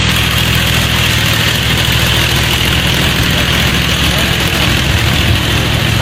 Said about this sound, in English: It's a 5-engine modified garden tractor.